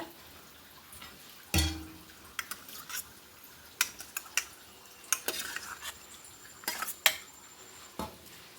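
Spoon scraping and clinking against a metal pot of curd rice in irregular bursts, a close stirring sound with quiet pauses between strokes.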